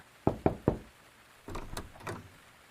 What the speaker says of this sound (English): A police officer knocked at the door.